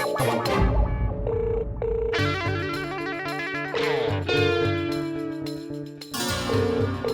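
A phone rings over a speakerphone, its rapid electronic trills and tones repeating loudly and steadily over several seconds, with no talk.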